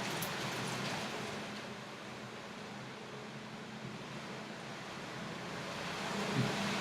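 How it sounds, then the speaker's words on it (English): Steady rain falls outside in Udon Thani, a faint, even hiss with soft wind-like rushing that holds without pause and no voices. "it's raining outside"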